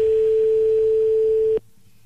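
Telephone ringback tone on an outgoing call, a steady continuous tone that rings loudly for about a second and a half, then cuts off abruptly into quiet line hiss.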